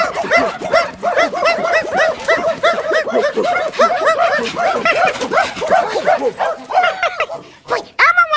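A puppy barks and whimpers close by in quick, continuous yips and whines, with laughter and chuckling mixed in, ending in a few sharper barks.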